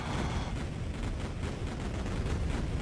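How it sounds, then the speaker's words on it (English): Pipe bomb explosions burst up out of water in Duke Nukem 3D, a dense, continuous rumble of overlapping blasts and crackling debris, steady and fairly faint throughout. "I never knew that the explosions came up out of the water like that."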